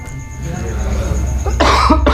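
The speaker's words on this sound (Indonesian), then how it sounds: "Batuk mas." A man coughs sharply a couple of times, close and loud, after a stretch of low room hum during an Indonesian talk-show recording.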